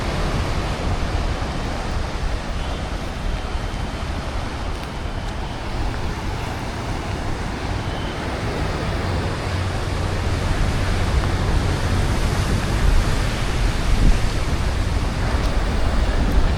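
Indian Ocean surf rolling onto the shore along the Colombo coast in Sri Lanka, a steady broadband wash of waves with constant roar and cool wind, growing slightly fuller toward the end, with no voices.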